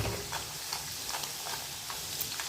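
Sabudana sandge, or sago crisps, roast and puff in a pan over a high gas flame, giving a dense, steady crackle and sizzle with no talking.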